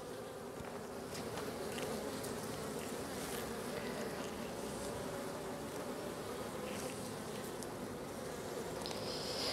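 Bees buzz densely around an open hive at the end of the season, a continuous close swarm drone with individual insects passing near, and a faint voice at times.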